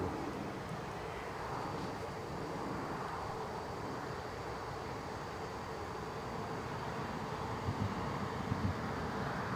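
Boeing 787 Dreamliner airliner rolls off the runway at Newcastle airport, a steady distant engine rumble and hiss that stays even throughout with no voices.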